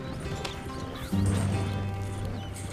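Horse hooves clip-clopping while pulling a wagon in Red Dead Redemption 2, steady rhythmic steps under a low rumble of wheels that grows louder midway, with a faint neigh-like tone.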